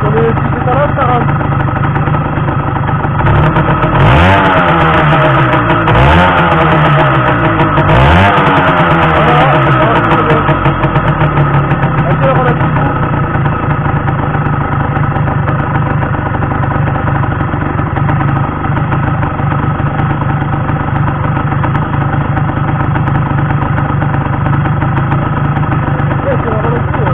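A 1975 Peugeot SX5 moped engine idles steadily and loudly up close, a continuous buzzing drone with a few brief wavering pitch sweeps early on, no revving beyond that.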